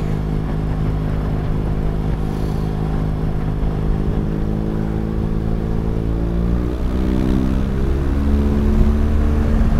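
A BMW R1200 GS Adventure motorcycle is ridden at a steady pace, its engine a loud, continuous drone up close, with pitch shifts as it changes speed and wind noise mixed in.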